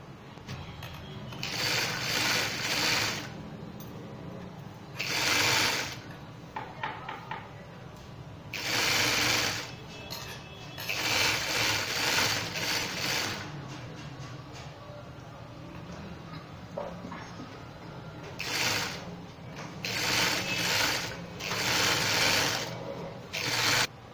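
A sewing machine runs in repeated bursts, basting long loose stitches on shirt fabric to gather it, with quieter pauses of fabric handling between the runs.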